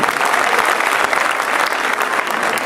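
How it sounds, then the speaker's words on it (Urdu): An audience applauds a children's performance at a Pakistan Day school event, loud, dense clapping from many hands that holds steady throughout without talk. "بچوں کی حوصلہ افزائی کے لیے ایک مرتبہ بھرپور تالیاں"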